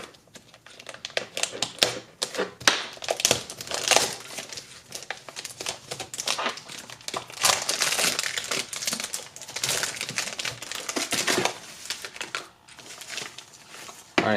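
Packaging around emergency lighting equipment being cut open: crinkling plastic, tearing and crunching cardboard, loud and close in irregular bursts, with occasional talk.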